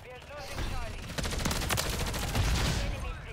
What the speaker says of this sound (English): there goes the nades popping off